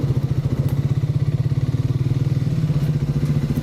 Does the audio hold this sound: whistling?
no